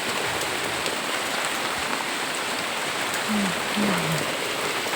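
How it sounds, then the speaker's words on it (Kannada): Heavy rain pours steadily outdoors during the rainy season, a dense, even roar of drops on surfaces that stays loud and constant throughout, with no talking. "ಹಿಂಗೆ ಬರ್ತಾ ಇದೆ ಮಳೆ"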